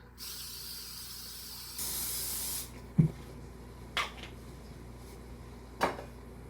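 A steady hiss of aerosol cooking spray for about two seconds, preceded by a softer spray, then a few sharp clicks and knocks from a can or pan.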